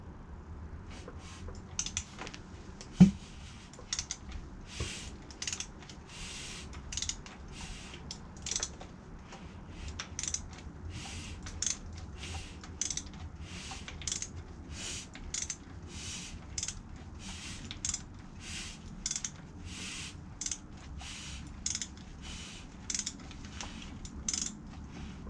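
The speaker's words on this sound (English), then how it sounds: "I'm going to go ahead and rotate the crank here." The crank of a 6.0 LQ4 LS engine in a 1971 Chevelle is rotated by hand during oil priming, giving a faint, evenly spaced series of metallic clicks and ratchet ticks that runs on and on.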